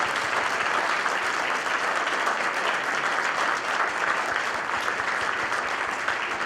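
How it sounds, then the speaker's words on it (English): An audience claps for students after a school program at an Ohio Senate district debate event, a loud, dense, continuous round of applause without breaks. "Could we get a special round of applause for all the students who were involved in today's program?"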